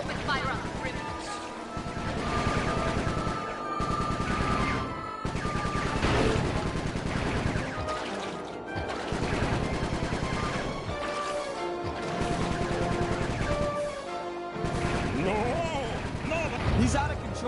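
Airship gunfire in the video game Sly 3: Honor Among Thieves, a dense continuous clatter of shots and crashing impacts that runs loud throughout, with game music and character voices mixed in.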